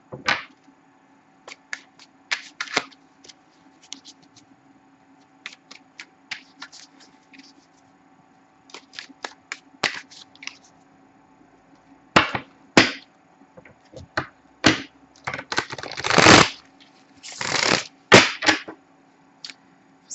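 A deck of oracle cards is shuffled by hand in quiet scattered riffles and taps, building into louder, denser flurries of card slaps near the end over a faint background hum.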